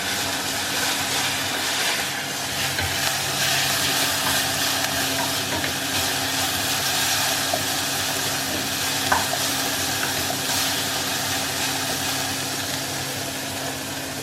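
Greens cooking on a cooker, a steady close sizzle with constant frying hiss and a faint low hum, unbroken throughout.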